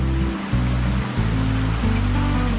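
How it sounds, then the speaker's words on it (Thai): A natural forest waterfall pours steadily with a full, broad roar that holds constant and close for the whole stretch. "เป็นน้ำตกไหลลงมาเลยนะผม"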